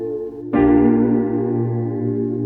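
Soft sustained city pop chords swell in as a warm layered blend of piano, synth pad and tape piano, with a slightly wobbly, lo-fi tape-like shimmer that lingers.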